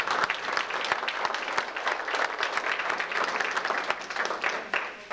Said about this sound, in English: Let's give him just a little round of applause.